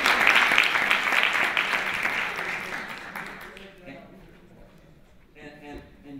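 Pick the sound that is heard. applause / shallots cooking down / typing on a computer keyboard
applause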